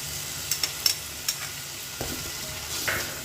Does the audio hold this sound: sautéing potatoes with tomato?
yes